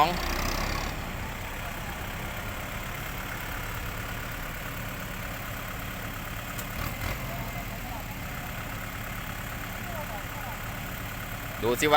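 A tractor engine runs steadily throughout while stuck in mud, a loud continuous low rumble with slight fluctuations, close by.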